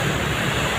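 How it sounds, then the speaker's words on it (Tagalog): Strong waves driven by Typhoon Inday pound the coast beside a damaged road, a loud, continuous roar of surf and wind buffeting the microphone, with no voices. "lakas ng alon dito yan, eh."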